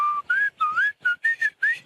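A person whistling a short tune, about seven clear, close notes in quick succession with brief gaps, no talk.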